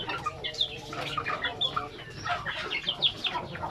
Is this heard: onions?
no